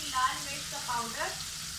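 Tomatoes and spices fry in a pan for masala bhindi, a soft steady sizzle with faint stirring scrapes, no talk over it.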